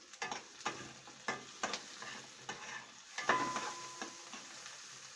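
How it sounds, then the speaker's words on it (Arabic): Onion sautéed in a pan, stirred in quick bursts that scrape and clatter over a soft sizzle, each stroke near and distinct, roughly one per second, with no talking. "انا هديها تشويحه عشان انا هاكل البصله تدبل معايا"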